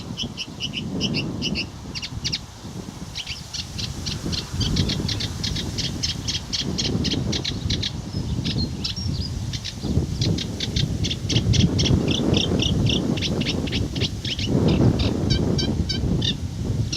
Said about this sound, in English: Bit of sedge, and the other sedge warblers in there.